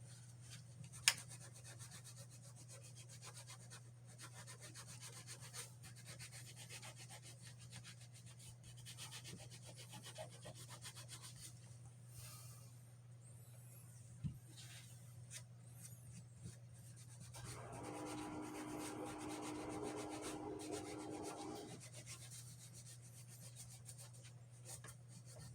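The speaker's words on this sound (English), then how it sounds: "we're going to hit this with a Scotch-Brite pad to really burnish that in" A Scotch-Brite pad rubs over the surface of a 3D-printed Blade Runner hand cannon prop, a soft steady scrubbing close by, growing more intense near the end over a faint constant hum.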